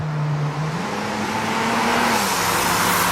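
GMC Syclone truck pulling away, a loud close engine note climbing in pitch as it accelerates, briefly dropping with a gear change, then holding steady, with no talk.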